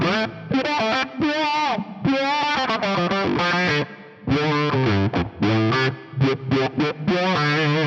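Electric guitar played through a ring modulator with an envelope filter and fuzz, giving a harsh, distorted, warbling tone in choppy phrases with brief gaps, loud and alone.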